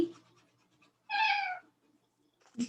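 A single clear cat meow, close and mid-loud, in an otherwise quiet room with faint background noise.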